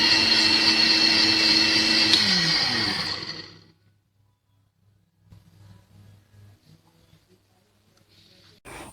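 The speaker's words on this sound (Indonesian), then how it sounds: "Kemudian blender sebentar aja, sekitar 5 atau 10 detik aja" Blender whirring loudly as it mixes flour and water into risoles batter, a steady high motor whine for about three seconds that winds down and stops, followed by quiet handling sounds.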